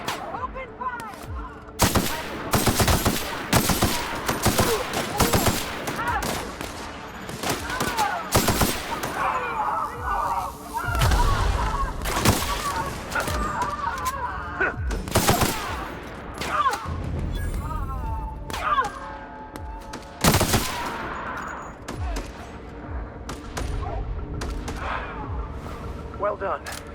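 A firefight in The Outer Worlds plays out as rapid bursts of automatic gunfire and sharp single shots with thuds, loud and dense throughout, while voices shout in the background.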